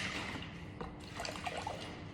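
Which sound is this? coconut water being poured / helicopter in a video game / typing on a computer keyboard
coconut water being poured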